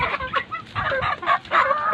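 Sweater gamefowl chickens cluck and call close by, a loud series of short, uneven clucks and squawks with brief pauses between.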